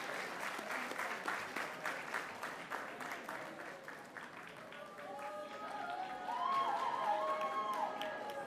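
Room audience at a board of education meeting claps in a brisk, even patter, then swells with cheers and whoops toward the end.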